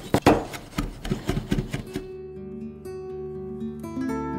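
Shallots being crushed and finely minced with a knife on a wooden board, a quick run of sharp chopping thuds up front that gives way to a quieter stretch of steady background tone.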